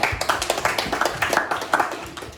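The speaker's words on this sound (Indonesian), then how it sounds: "mari tepuk tangan buat kelompok" A classroom of students applauds a presenting group, many hands clapping in a loose, uneven patter of sharp claps that carries on steadily for a few seconds, close and fairly loud.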